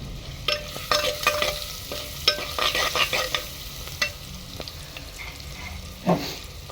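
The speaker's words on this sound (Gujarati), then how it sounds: "અંદર નાખી દઈએ વઘાર આપણે" Onion sizzling in hot oil as the tempering for dal baati on a desi clay stove, with a steady bed of crackles, scattered pops and a louder hiss near the end, close by with no talk.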